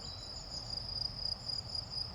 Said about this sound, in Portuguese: muito barulho de grilo